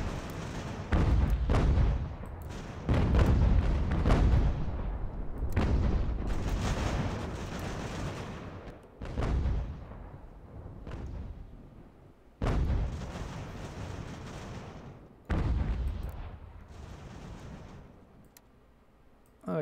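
Artillery fire in the video game Ultimate General: American Revolution at Fort Frederick, heavy booming blasts repeating at irregular intervals, each one trailing off into a rumbling decay, with no talk.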